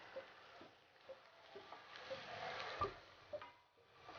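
Carrots frying in oil for a winter vegetable soup: a faint, steady sizzle with soft ticks and stirring clicks throughout.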